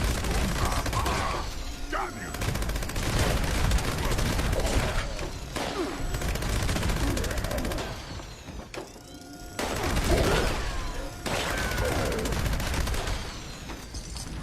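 Sustained minigun fire in the video game Fallout 76, a dense, continuous roar of rapid shots running almost the whole time with brief dips, mixed with game combat noise and some speech.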